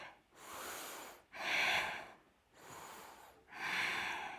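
Slow, deliberate yoga breathing in a gentle session, close and quiet, alternating about four times between soft exhales and stronger, airier inhales, each lasting roughly a second.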